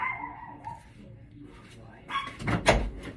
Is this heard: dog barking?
yes